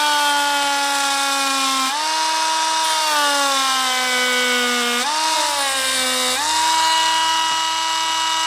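A high-pitched rotary cutting tool whines steadily through radiator welds on a KX250 motorcycle, loud and close, its pitch dipping slightly as it bites into the metal in a few passes, with no voices.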